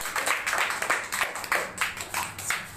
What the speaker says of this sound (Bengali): তাহলে সুজনের জন্য সবাই হাততালি দাও।